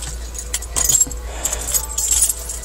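Car keys for a 2000 Chevrolet Impala jangle and clink in short bursts, close and fairly loud, against a steady low hum.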